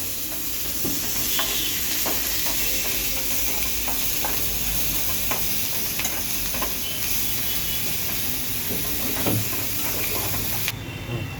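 Shredded cabbage sautéing in a spoonful of oil with salt and ajwain for a homemade pizza topping, a steady close sizzle with faint stirring scrapes throughout and a brief louder rustle near the end, no talking.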